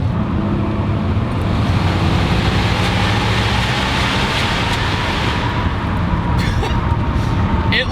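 A GMC Typhoon with a turbocharged V6 pulls under throttle, giving a loud steady rumble with a faint whooshing, windy edge that runs throughout. Road noise and a few brief rattles sit under it.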